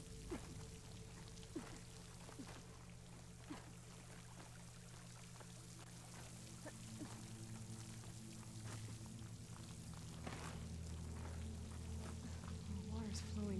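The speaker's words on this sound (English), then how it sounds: "The water's flowing into the wall." Water flowing into a wall in the video game Horizon Forbidden West, a steady pouring trickle with scattered drips beneath a low game hum, continuous and moderately faint throughout.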